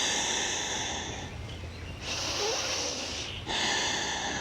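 Deep, steady breathing during a low-back yoga flow, close and continuous, with a hissing airy quality rising and falling over a few seconds and no talking.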